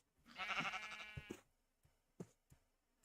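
Sheep bleating in the Aetherial Airships video game, one clear nasal bleat up close followed by a few short thuds and clicks against quiet background.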